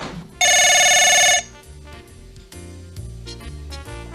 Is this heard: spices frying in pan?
no